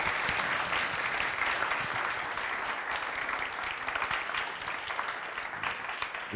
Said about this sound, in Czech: Já vás poprosím o potlesk pro Daniela Prokopa.